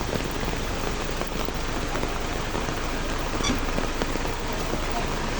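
Heavy rain pours down without pause, a dense, even hiss of drops on surfaces that holds steady throughout, near and loud, with no voices over it.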